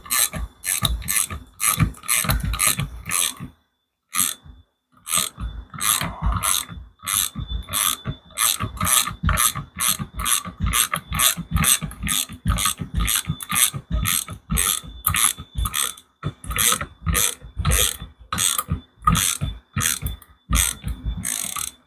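A ratchet with a long socket rapid-fire clicks while tightening an A-arm bolt on a Chevrolet K1500, with repeated bursts of ratcheting separated by a few brief pauses.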